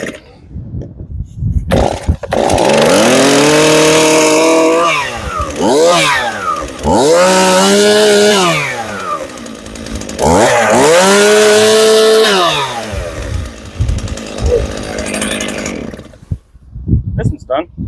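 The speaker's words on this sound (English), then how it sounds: "as I just finished up the chainsaw" A repaired chainsaw starts up on a farm and runs, its engine note climbing and falling through several loud revs before it idles rough and cuts out.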